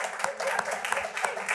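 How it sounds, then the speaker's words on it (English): Audience applause at a community college district board meeting, a brief patch of scattered clapping with talk mixed in. "Are we applauding for Sharina or?"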